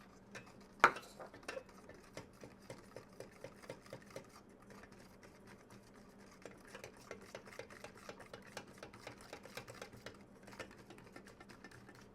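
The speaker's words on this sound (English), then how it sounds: "And I'm going to whisk it constantly as I stir it in." A whisk rattles quickly and rhythmically against a pot while milk is worked into chocolate pudding mix, a soft, steady ticking with a sharper clank near the start, close and fairly quiet.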